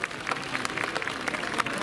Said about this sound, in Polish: brawa dla Was samych